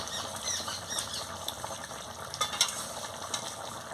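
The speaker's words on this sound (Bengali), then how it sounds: "এলাচ গুঁড়োটাও দিয়ে দিচ্ছি, দিয়ে ভালো করে নাড়িয়ে নিচ্ছি" Shol fish dhoka in a pan with cardamom powder being stirred in, soft sizzling with light scraping and small clicks of a spoon, close and brief.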